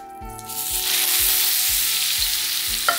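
Tofu pieces sear in hot oil in a pan, giving a loud, continuous sizzle with a few low thumps as the pieces go in and a sharp clink near the end.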